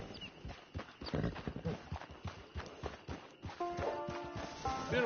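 Horse hooves clop in a steady walking rhythm in the Red Dead Redemption 2 video game, close and moderately loud, mixed with game ambience and musical tones toward the end.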